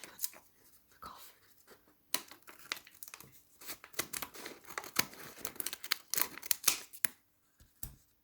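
Close, intimate crinkling and cutting of a coffee bag at a kitchen table, with irregular crisp snips, rustles and tearing bursts separated by short silences, recorded up close for ASMR.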